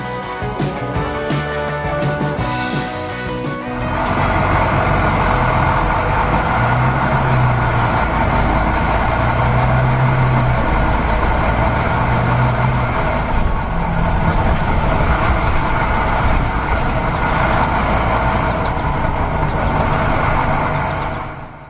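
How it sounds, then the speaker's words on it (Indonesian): Animated yellow excavator loading big rocks into a dump truck: a loud, steady rumble of heavy machinery runs throughout, with a brief lighter passage at the start before the continuous engine drone takes over. "Eskavator kuning sedang memindahkan batu-batu besar ke bak truk dengan sangat perkasa."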